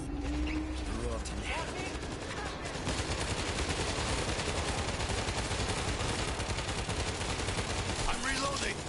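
Rapid, continuous automatic gunfire in the zombie shooter World War Z forms a dense, loud, sustained rattle that rises after a brief quieter opening, with faint voices mixed underneath.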